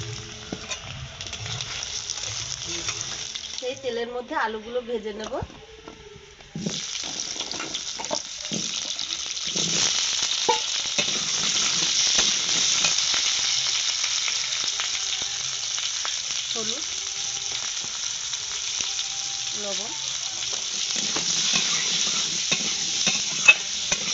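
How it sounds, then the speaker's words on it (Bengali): Paneer fries in a pan with a steady sizzling hiss that grows fuller partway through, broken by scattered scrapes and clinks of a spatula; no one speaks. "পনির হালকা লাল করে ভেজে নিয়েছি এবার আমি তুলে নেব"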